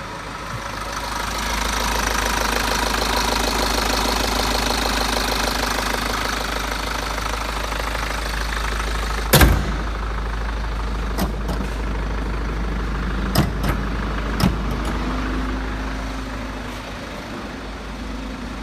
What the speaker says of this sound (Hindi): आइए कार ऑन करते हैं और इंजन साउंड सुनते हैं।